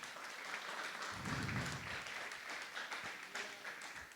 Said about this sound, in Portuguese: Dê um aplauso ao Senhor, meus irmãos.